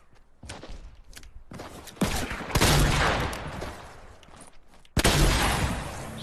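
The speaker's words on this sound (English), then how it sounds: "I'm shooting now." Bursts of video game gunfire crack out in loud, sharp volleys, with a heavy salvo in the middle and another sudden burst near the end, between quieter gaps.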